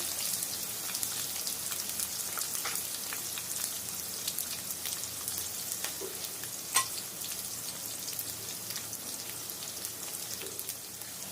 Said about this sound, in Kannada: ಈರುಳ್ಳಿನ ಫ್ರೈ ಮಾಡ್ಕೊಳ್ಳೋಣ